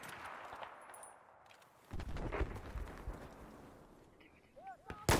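Gunfire in Battlefield 4 multiplayer, a burst of heavy shots crackling mid-clip, fairly quiet overall, followed by a few sharper pops near the end.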